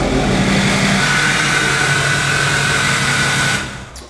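A truck engine runs steadily and loud nearby as the vehicle backs into a garage, then the sound cuts off and fades near the end.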